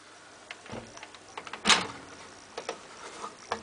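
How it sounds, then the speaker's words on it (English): The cheap plastic door of a White Knight CL432WV dual-heat tumble dryer, about 6 kg, swung and shut: scattered light clicks and rattles leading to one sharp loud clack, then more small knocks, close up. "Cheap plastic White Knight door. What do you expect?"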